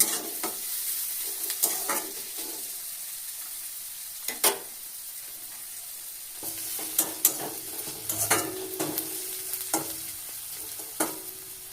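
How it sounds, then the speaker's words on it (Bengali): Onion and garlic fry together in a wok with a soft, quiet sizzle, punctuated by sharp clicks and scrapes of a spatula stirring against the pan at irregular intervals. "পেঁয়াজের ওপরেই রসুনটাও দিয়ে দেবো, দুটোই একসঙ্গে ভাজা হতে থাকবে"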